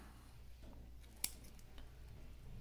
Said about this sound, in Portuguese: Posso aqui já cortar essa linha.